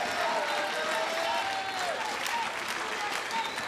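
A French home crowd at a foosball World Cup semi-final in an arena applauds steadily, a fairly quiet, even patter of clapping with faint voices in the background.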